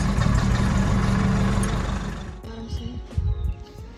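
The diesel engine of a Nissan Navara D40, just restarted with a new starter, runs with a loud, steady low rumble that fades partway through. Faint clicks and clatter follow the fade.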